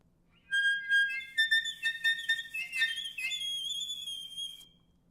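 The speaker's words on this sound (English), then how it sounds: "Teeth on reed, this is a technique that you see in avant-garde music to play extremely" Piercing, squealing high notes from a reed instrument played with teeth on the reed, wavering and bending like a shrill whistle, played alone for a few seconds.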